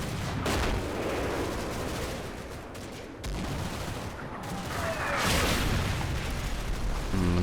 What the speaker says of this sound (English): And the German artillery is starting to fall.